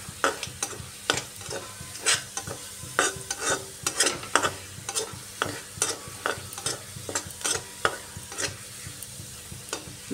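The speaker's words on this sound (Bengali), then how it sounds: "রসুনটাকে প্রথমে একটু ভালো করে ভেজে নিচ্ছি।" Garlic frying in hot oil while being stirred, a continuous sizzle broken by repeated scraping strokes of a utensil in an uneven rhythm, close and clear with no talking.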